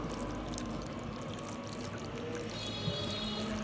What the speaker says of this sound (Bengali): এবার সরিষার তেল আমি মাস্টার্ড অয়েল মিক্স করা হচ্ছে